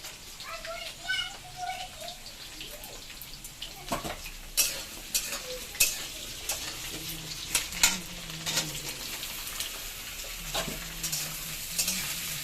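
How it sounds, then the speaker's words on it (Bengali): Potatoes fry with cumin, chilli, ginger and coriander powder, a low sizzle under repeated scraping and clinking stir strokes, with faint birds and children in the background and someone talking at times. "সব দিয়ে একবারে আলুটা একটু ভাজা ভাজা হোক"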